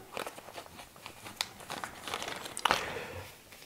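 A plastic bag holding disposable gloves crinkles and rustles up close in an everyday-carry organizer pouch, soft irregular crackles with a couple of sharper crunches, no voices.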